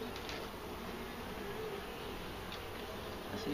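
Honeybees swarm around an open beehive, a steady dense buzz of many insects hovering close by, with no voices.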